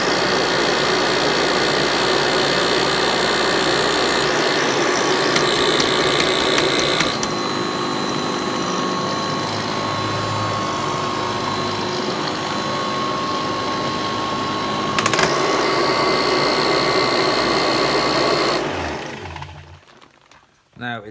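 A Kirby Heritage 84 vacuum cleaner switched on and running as a steady, loud motor roar with a whining mechanical hum. It holds level for most of the stretch, then winds down and drops away near the end.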